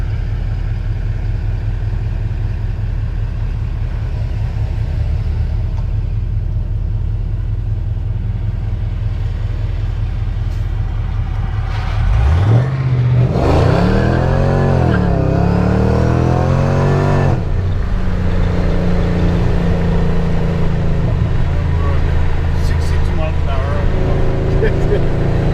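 A supercharged 2010 Chevrolet Camaro SS with a Flowmaster exhaust idles with a deep steady rumble, then revs hard midway in a loud rising and falling roar before settling back, close to the microphone.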